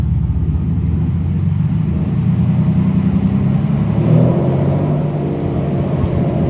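Engine of a Mercedes SL600 under test after a transmission install, a loud, steady low rumble that swells slightly around the middle as the gas pedal is held, with no talking.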